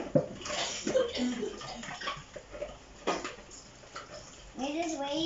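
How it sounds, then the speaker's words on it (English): Plates being washed by hand under running water, with a steady tap stream, clinks of dishes and scrubbing, while people talk over the washing throughout. "We still have a lot of plates to wash."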